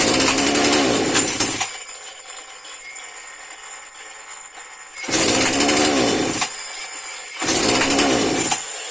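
A Husqvarna 236/240 two-stroke chainsaw engine roars loudly in bursts, dropping to a low idle between revs, close by.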